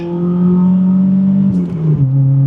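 Nissan 240SX S13 engine revving hard and pulling up through the gears, a loud close steady drone that climbs in pitch, dips at a shift, then climbs again.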